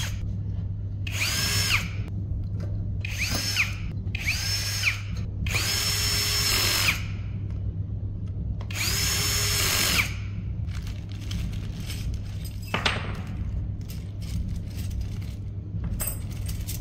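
A power drill drives screws while a solar storage battery is being installed, whirring in several separate bursts of a few seconds each over a steady low hum, with occasional clinks of metal parts between them.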